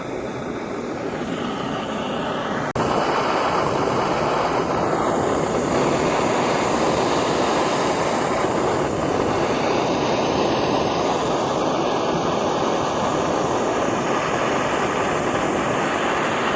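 A Primus Express backpacking gas stove burns at full gas pressure, a loud constant roaring hiss that jumps up after a quieter start and holds steady close by, with no talk.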